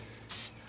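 A single short burst of spray hissing onto a wood image transfer made with wood glue, close and fairly faint, lasting under a quarter second against quiet room tone.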